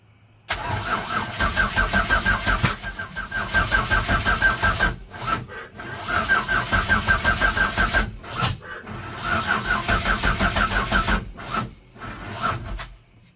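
A car engine fitted with newly finished Microsquirt wiring cranks over and over in loud, rhythmic pulsing bursts. The whirring grind pauses briefly between attempts and never settles into a steady idle.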